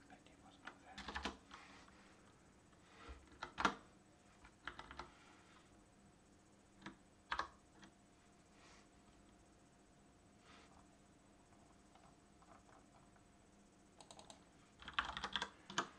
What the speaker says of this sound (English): If I do the right key presses.